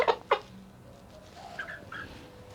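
A couple of sharp clucks up close at the start from a fighting rooster, followed by softer, scattered clucking calls.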